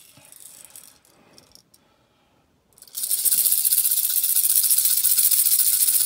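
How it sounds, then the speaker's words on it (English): A toy rattle is shaken hard after a quiet pause, giving a loud, dense, continuous rattle that fills the second half, with only faint handling noise before it. "If you were to say a rattle, then you would be right."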